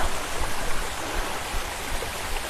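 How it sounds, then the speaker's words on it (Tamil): A waterfall on a hill at Tiruvannamalai pours with a steady, loud broadband rush of water, constant and close with no voices. "இந்த அருவி சத்தம் தாங்க கீழே வரைக்கும் கேட்குது"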